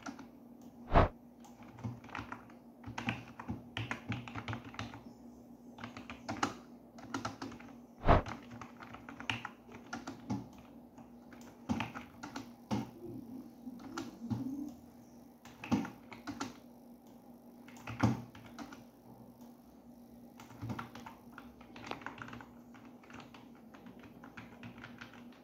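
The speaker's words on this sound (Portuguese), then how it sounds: "Vou mostrar aqui para vocês aqui, ó, tá o meu teclado aqui, ele é silencioso, tá?" A quiet budget Fortrek gaming keyboard is typed on steadily for a long stretch, its soft clicks and taps running in irregular bursts with a few louder key strikes, set over a constant low hum.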